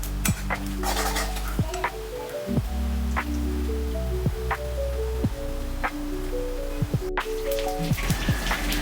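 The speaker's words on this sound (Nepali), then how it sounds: "तेल खारिसकेपछि मैले लसुन हालेँ।" Chopped garlic sizzling in hot oil in a home pan for pasta sauce, a steady crackling hiss close by with occasional clinks and scrapes of a utensil and no talking.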